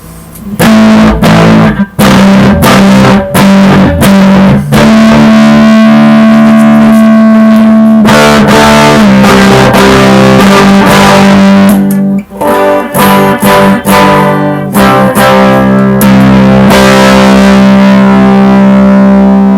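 Loud, heavily distorted electric guitar through an overdrive pedal and 30-watt amp, holding sustained chords and notes, with delay and reverb smearing each phrase into a continuous wash, no pauses.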